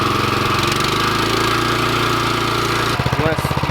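A small farm machine engine runs at full throttle with an attachment, a loud, steady, close chugging drone that shifts to a rougher, pulsing rhythm near the end.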